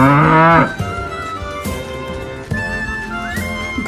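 A cow lowing with a loud, drawn-out moo at the very start, cut off after about half a second and followed by a soft, steady melodic backing.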